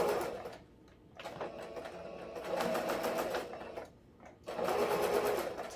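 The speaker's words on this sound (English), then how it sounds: "So sew all the way to the end of your tulle. And you're going to back stitch." A sewing machine back-stitching tulle for a ribbon-trim tutu, close and fairly quiet, running in three bursts separated by short pauses as it goes back and forth.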